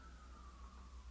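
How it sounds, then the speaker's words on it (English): An ambulance siren wails outside, its single steady tone sliding slowly downward as it passes, faint and distant beneath a low background rumble. "We interrupt this part of the vlog with an ambulance."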